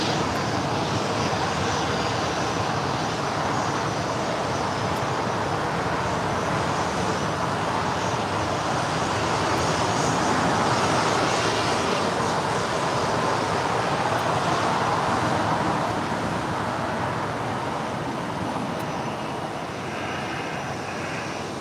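A Boeing 787 Dreamliner departs the runway at LAX, a steady broadband jet roar that swells slightly toward the middle and stays loud throughout, blended with distant airport and traffic hum, with no talking.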